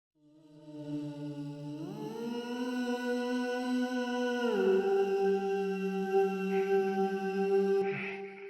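A sung vocal sample pitch-shifted down an octave, deep and slightly robotic, with a sustained tone that slides lower around the middle and holds steady, alone with no talking.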